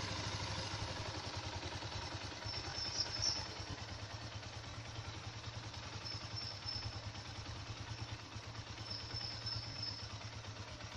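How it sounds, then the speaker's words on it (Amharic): A BMP 150cc motorcycle engine idling after an idle-speed adjustment, a quiet, steady low putter with an even rhythmic pulse and faint clatter, heard alone. "አሁን የሞተሩ ድምጽ ሞተሩ እየሰራ ነው"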